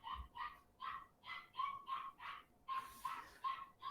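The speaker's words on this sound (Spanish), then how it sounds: "¿ustedes escuchan un ladrido constante?" A single dog barks steadily in a regular series of about a dozen evenly spaced barks, distant and fairly faint, with no talking.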